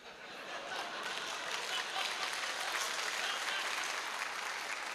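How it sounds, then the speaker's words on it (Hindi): An audience claps in a steady, dense patter that swells slightly after the first second and holds at a moderate, somewhat distant level without voices on top. "इस वाली बात पे ताली ज्यादा बजी"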